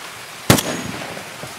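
A single sharp, loud gunshot from a video game is heard close by. A short echoing tail follows it, with a faint second pop near the end.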